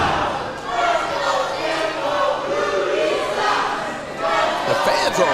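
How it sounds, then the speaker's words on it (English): Wrestling crowd at the World Gym Arena in Texas City, Texas, cheering loudly at a Reality of Wrestling show, a sustained roar of chanting and shouting voices that rises and falls. "A great crowd here at the World Gym Arena in Texas City, Texas"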